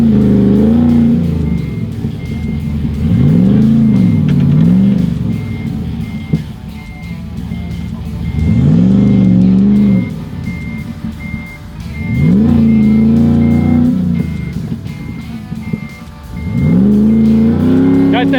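An off-road truck, 650 horsepower on 35-inch tyres, revs hard while stuck and being pulled out, its engine rising and falling in repeated loud surges close by, with a reversing beeper and voices mixed in.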